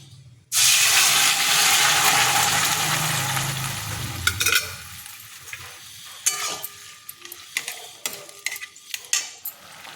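Ash gourd tipped into hot ghee tempered with chilli, bay leaf and mustard seeds sets off a loud, sudden sizzle that hisses steadily for several seconds, then fades into scattered clinks and scrapes of a spoon stirring in the pan.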